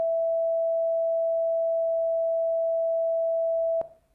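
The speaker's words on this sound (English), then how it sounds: "if we play them together, we can hear that there's actually a small beat tone like this" Two pure electronic sine tones play together in a conference talk demonstration, merging into one steady, clean hum with a slight beating that holds for nearly four seconds, then cuts off abruptly.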